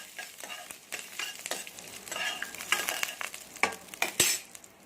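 Mustard seeds, cumin, fenugreek, chana dal and urad dal with asafoetida stirred in hot oil, quick scraping strokes of a spoon against the pan over a light sizzle, close and irregular.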